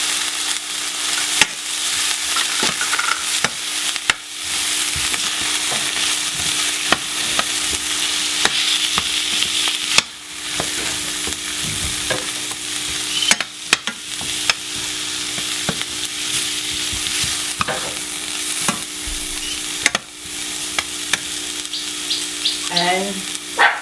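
Onions and curry frying in a pot for a Jamaican vegetarian curry stew, a steady loud sizzle with scattered sharp stirring clatters and pops throughout.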